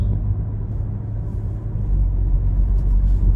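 A car drives along a road, a steady low engine and tire rumble that swells slightly louder in the second half, with no talking.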